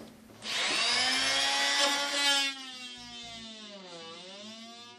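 A power tool bites into a wooden wall stud during a retrofit installation, giving a loud, steady whine for about two seconds before it eases into a quieter, slowing hum with no talking.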